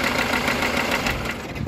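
A car engine runs rough with a steady, dense rumble and a knocking vibration. It is loud and close, and it holds unbroken through the whole moment with no voices over it.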